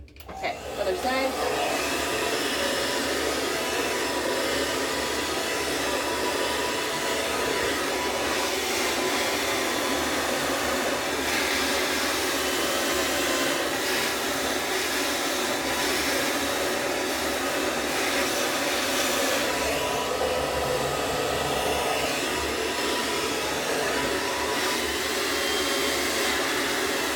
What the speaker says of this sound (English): So you can see the difference between blow drying it nicely and not blow drying it